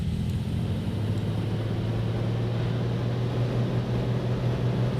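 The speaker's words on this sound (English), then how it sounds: "We're gonna just advance the throttle a little bit to get the engine working" Simulated Cessna Centurion piston engine in X-Plane 10 running steadily after throttle advance, a continuous low droning hum with a faint rising tone, no speech over it.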